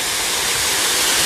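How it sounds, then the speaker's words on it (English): Prairie Creek's waterfall pours over limestone bedrock in Big Woods State Park, a loud, close, unbroken rushing hiss of falling water with no other sounds. "One of the great features of Big Woods State Park is this great waterfall here coming off of Prairie Creek."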